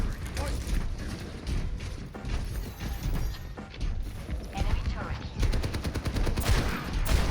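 Rifle shots from Ashe in the Overwatch shooter, sharp repeated cracks spread through a busy team fight with mechanical clatter and rapid bursts near the end, while a player talks over the action.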